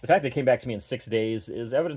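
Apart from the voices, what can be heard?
No everyday noises stand out.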